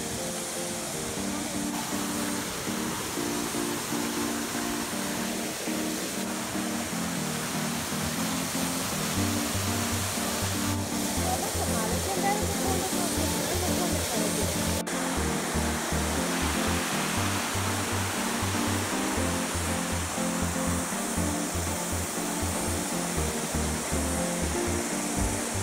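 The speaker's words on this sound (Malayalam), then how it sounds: "ഇത് വലിയ വെള്ളച്ചാട്ടം." A large waterfall found on an evening walk gives a loud, continuous rushing roar that fills the whole stretch without letting up.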